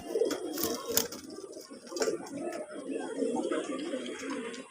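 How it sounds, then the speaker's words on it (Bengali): Female tippler pigeons cooing in a loft, several birds giving soft, repeated throaty coos that overlap in a continuous murmur at close range. "এগুলো আমার সব মাদা পায়রা।"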